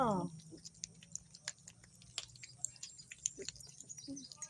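Pet cats eating their food up close, with soft wet chewing and small bites in an irregular rhythm, a brief meow at the start and a voice talking faintly in the background.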